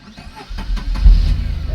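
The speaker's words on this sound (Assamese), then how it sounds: "হাফ চেল্ফত গাড়ী ষ্টাৰ্ট।" A 2010 Tata Nano starts on half self, a brief crank and the small engine catching into a loud, close idle.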